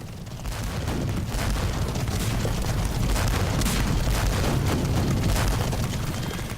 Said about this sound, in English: the British cavalrymen ran a gauntlet of cannon fire